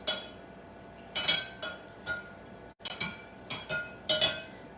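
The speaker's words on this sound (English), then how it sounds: "And then stir it up" Peppermint iced tea stirred in a glass pitcher, with a spoon clinking against the glass in several short bright bursts separated by pauses, close and fairly quiet.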